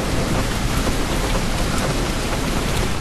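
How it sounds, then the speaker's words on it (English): AI-generated heavy rain with light footsteps, a dense, constant roar of downpour filling the whole stretch, loud and even, with no distinct steps standing out and no talking. "typing in your prompt, heavy rain, light footsteps"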